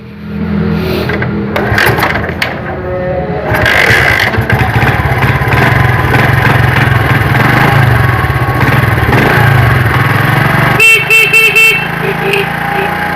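A motorcycle engine, its battery replaced with a 4700uF 50V capacitor, idles and revs loudly up close, with people talking over it and a few short horn-like beeps near the end.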